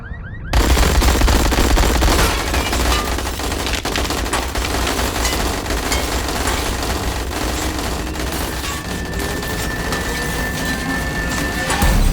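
Gunfire volley from a short film, a dense sustained barrage of rapid shots and booms lasting about twelve seconds, loud and continuous with no pauses.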